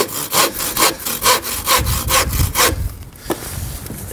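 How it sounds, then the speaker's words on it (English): A handsaw cuts through a piece of roof timber for an irregular hip roof, with about ten fast rhythmic rasping strokes close by before the cut finishes and goes quiet. "I'm just going to cut that off as well."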